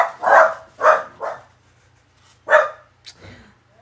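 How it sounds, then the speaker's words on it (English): A dog barks several times indoors, two quick woofs, then a third, a pause, and one more sharp bark, each loud and close, against a low steady hum with no talking. "Sorry about my dog."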